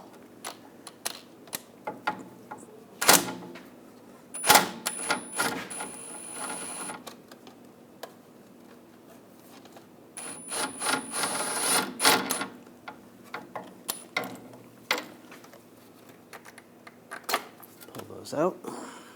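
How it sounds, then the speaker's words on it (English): Bolts come out of a 2009-2017 Volkswagen Tiguan rear hub assembly with an M8 triple square socket, giving scattered sharp ratcheting clicks and metallic taps in short bursts, with speech in between. "we're going to use a triple square socket. This is a M8 socket."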